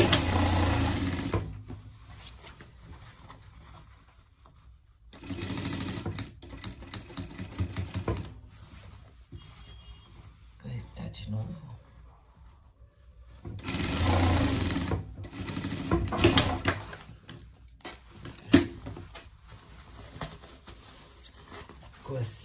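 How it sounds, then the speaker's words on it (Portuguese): A sewing machine stitches pet pajamas in several bursts of fast, close needle clatter separated by quieter pauses where someone speaks. "Mesma coisa aqui, costura, costura aqui embaixo."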